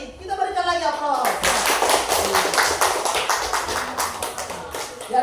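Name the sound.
classroom applause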